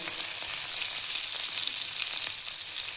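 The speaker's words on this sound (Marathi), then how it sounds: "हे बघा, तेल टाकूया. त्याच्यात जिरे टाकून घेऊया." Cumin seeds sizzle in hot oil, a constant bright crackling hiss heard up close and alone for a few seconds.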